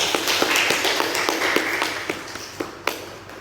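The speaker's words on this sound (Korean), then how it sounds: "박수하겠습니다." Scattered hand clapping from a small group at a Christmas church service certificate ceremony, uneven and fairly close, fading in and out over a few seconds.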